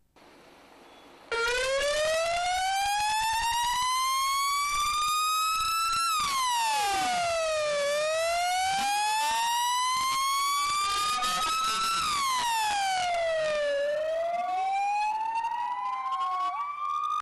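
Ambulance sirens wail loudly and close at hand, a continuous rising and falling tone that sweeps up and down in repeated cycles, with no talking.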